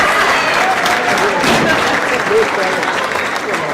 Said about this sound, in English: Let's give them a round of applause as they exit the stage.